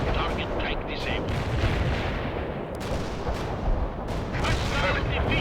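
Dense, continuous booming explosions and rumbling fire from napalm strikes in the World in Conflict strategy game, loud and sustained with several sharper blasts rising over the steady roar.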